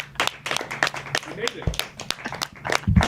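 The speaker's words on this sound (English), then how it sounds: "Everybody clap right now for Meech because he's young." A few scattered claps ring out amid lively overlapping talk and background chatter, loose and irregular rather than full applause.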